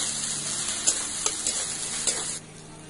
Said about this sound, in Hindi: अदरक, लहसुन डाल करके इसे भूनना है